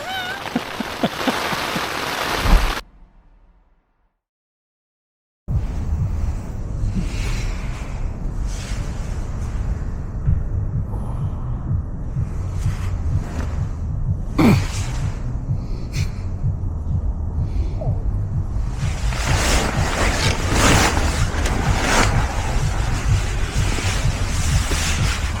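Rain and wind buffeting a tent at night in Iceland, a loud continuous roar of gusts and pattering with a few seconds of complete silence near the start, then building again strongly toward the end.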